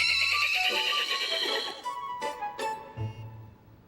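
A horse gives a loud, wavering neigh that trails off into a few shorter snorts and whinnies, fairly close and with no talking.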